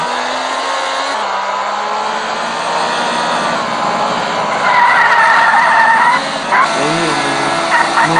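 Tires skid and screech as a car drifts in a video game, with a droning engine tone under sustained squealing that rises and wavers across the clip.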